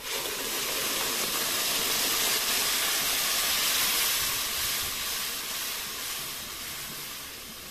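Chopped tomatoes go into a hot pan of lightly fried onions for an old-style home zucchini stew, giving a loud, steady, close sizzling hiss that holds for several seconds and eases slightly near the end, with no talking.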